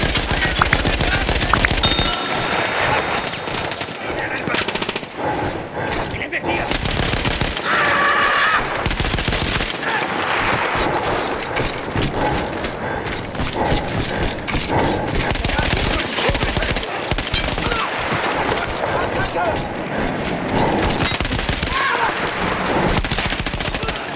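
A mounted machine gun in the World War I shooter Battlefield 1 fires in long, loud sustained bursts, mixed with horse whinnies and the chaos of battle, with voices heard amid the din.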